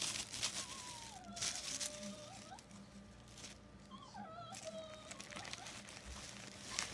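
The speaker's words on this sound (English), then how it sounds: "That is my dog whining." A pet dog whines indoors in thin, rising and falling cries, with two main bursts of whimpering over faint room noise.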